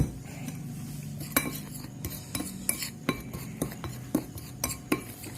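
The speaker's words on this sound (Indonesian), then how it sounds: "Nah, kita aduk." A utensil stirs banana fritter batter with a little sugar in a bowl, making a quiet, regular series of light clinks and scrapes against the dish.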